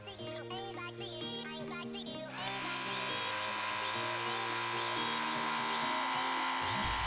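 A Split Ender Pro split-end hair trimmer switches on partway through and then runs with a steady buzzing hum. Speech and other sounds come before it starts.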